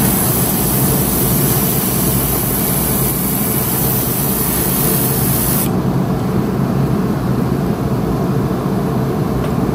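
An airbrush sprays water-based acrylic paint onto a fishing lure, a loud close continuous hiss of air that holds steady throughout with no talk.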